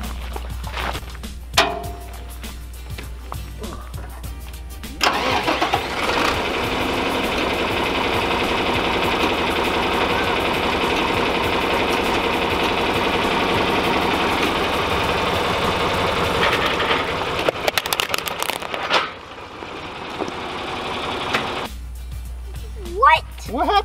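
A farm tractor's engine runs steadily under load at close range while crushing a light bulb, with a loud, continuous rumble lasting about fifteen seconds and brief clatters before and after.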